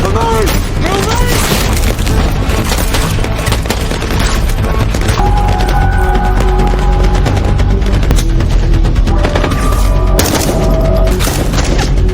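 Movie battle in which soldiers shoot at enemies from inside a building: loud, dense bursts of rapid gunfire and heavy booms run continuously, mixed with tonal soundtrack layers.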